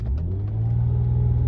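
An Acura car engine holds a steady loud rumble, surging slightly as the brake is released for a launch, continuous throughout with no talk.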